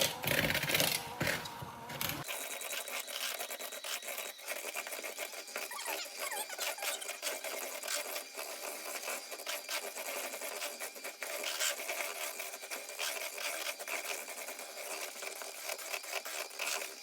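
A cordless electric mixer creams granulated and brown sugar together, a steady close whirring hum with a faint rattle that runs unbroken for most of the stretch after a brief start.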